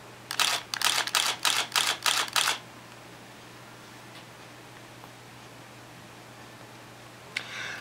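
A DSLR camera fires a burst of eight rapid shutter clacks onto a Transcend 600X SD card, loud and close, followed by quiet with a soft click near the end.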